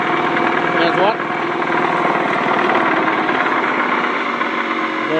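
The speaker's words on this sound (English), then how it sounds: "connect the generator straight to the motor" A 5 kVA home generator wired straight to a motor drones at steady idle, a loud continuous engine rumble with fine rapid vibration, close up and unbroken throughout.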